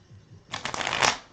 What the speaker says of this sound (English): We'll shuffle one more time.